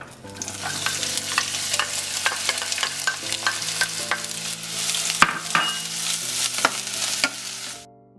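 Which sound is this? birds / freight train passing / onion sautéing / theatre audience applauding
onion sautéing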